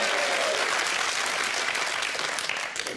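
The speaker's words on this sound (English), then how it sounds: "If you're happy, clap your hands." An audience at a studio TV quiz bursts into sustained, dense applause, steady and loud for a few seconds before tapering slightly at the end.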